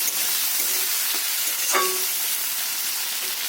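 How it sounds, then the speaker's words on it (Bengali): Chopped onion fries in hot oil in a pan after a whole-cumin tempering, giving a loud, steady sizzle throughout, with a single brief utensil clink midway and no talking. "খুব ভালো করে লাল করে নেবো পেঁয়াজটা"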